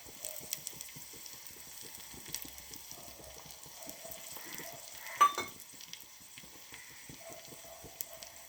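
Dried red chillies and curry leaves frying in hot oil make a steady soft crackle and sizzle with small pops, plus one brief louder clink midway.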